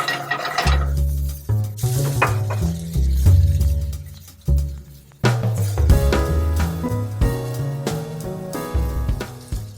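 Extra virgin olive oil hits a hot, dry pan of broccoli with steady sizzling, while a utensil stirs and clinks against the pan now and then, close up with no talk.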